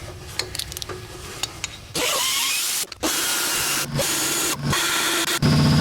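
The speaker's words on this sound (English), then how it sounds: "this is like a carbide burr, and we're going to come in, we're just going to smooth that off" A high-pitched rotary tool with a carbide burr grinds metal flat on a KTM power valve in several bursts, starting and stopping, loud and close, after a quieter stretch of clicks and handling.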